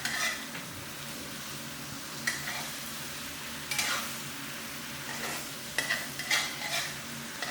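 Curry paste and bell pepper stir-fried in a hot pan for a spicy catfish stir-fry: continuous close sizzling with intermittent scraping strokes of a utensil against the pan.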